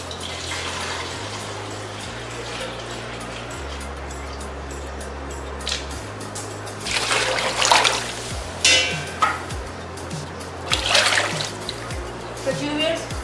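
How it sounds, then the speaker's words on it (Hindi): About 7 kilograms of water goes into a cooking pot for chicken haleem in several splashing, gushing bursts over steady background music, loudest in the second half. "तो व्यूअर्स पानी जो वो मैंने ऐड कर दिया।"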